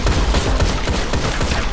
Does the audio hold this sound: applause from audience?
no